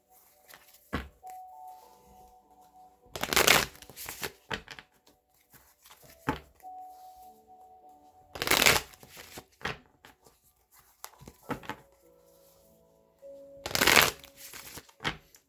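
A Witch's Tarot deck is shuffled in three separate bursts of riffling card noise, each a couple of seconds long, with quiet stretches and soft faint tones between them.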